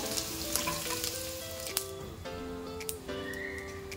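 Paneer cubes frying in hot oil, a steady close sizzle and spatter with faint stirring clinks, no voices.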